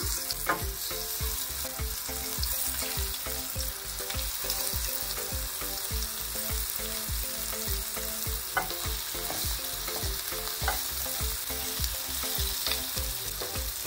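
Marinated mackerel pieces fry in hot oil, a loud, steady sizzle and crackle that lasts throughout. Regular soft ticks from stirring or turning run underneath, and no one speaks.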